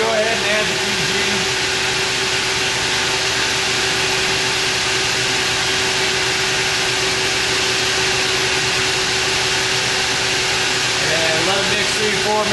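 A mixer churns brine for injecting ham with a loud, constant motorized whir that holds steady and unbroken throughout.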